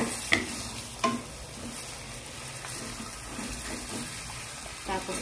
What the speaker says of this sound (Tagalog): Ilalagay natin yung ating manok.